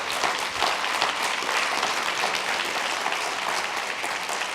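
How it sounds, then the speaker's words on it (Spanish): A church congregation applauds steadily, a dense, loud wash of many hands clapping that holds evenly throughout without pause. "Dale un aplauso a Jesús y así se lo merece."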